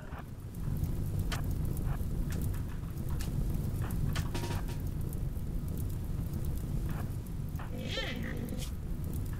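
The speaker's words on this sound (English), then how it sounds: "Oh, yes, it's raining." Steady rain falls in the RimWorld video game, a constant dense wash of patter with scattered clicks and a brief animal-like cry near the end, and no talking.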